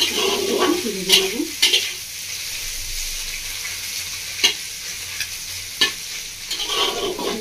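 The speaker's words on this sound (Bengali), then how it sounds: "ডিমটা দিয়ে ভেজে নেবো" Egg and pointed gourd fry together in a pan with a loud, continuous sizzle. Repeated scraping stirs and clinks of a spatula against the metal break through it.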